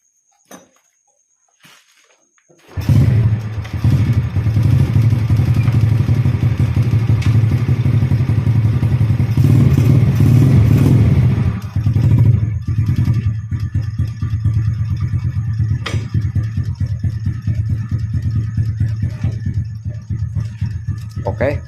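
A motorcycle fitted with a double automatic clutch starts and runs close by, a steady low engine drone with clattering and thumps as it idles and shifts into gear, sustained for about twenty seconds.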